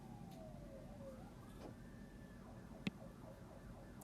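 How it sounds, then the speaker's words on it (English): A distant emergency vehicle siren outside wails and sweeps in pitch over steady background noise, with one sharp click partway through; no one speaks. "Can you hear the sirens?"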